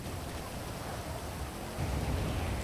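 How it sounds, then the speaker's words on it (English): Steady, dense rainfall in GTA V, a constant close hiss of pouring rain that swells slightly louder toward the end. "Yeah, let's get out of this rain."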